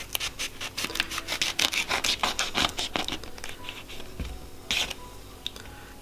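Knife cutting open a granadilla fruit, with close, repeated rhythmic rasping and scraping strokes against its hard shell, followed by a brief dull knock.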